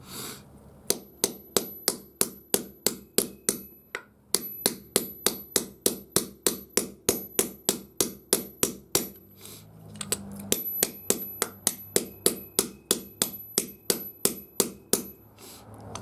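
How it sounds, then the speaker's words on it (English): A 3-pound sledgehammer strikes a D-loop tie-down in a Toyota Tacoma truck bed in a long run of sharp, evenly spaced metallic blows, close and loud, pausing briefly twice before resuming the steady pounding. "This is a 3-pound sledgehammer."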